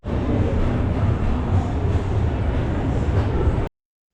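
A passenger train at Thiruvananthapuram Central starting to pull away, a steady loud low rumble of wheels and carriages rolling close by, continuous with no voices, cutting off abruptly.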